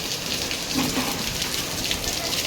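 Heavy monsoon rain pours down steadily, a dense continuous hiss of drops drumming on surfaces, loud and unbroken throughout.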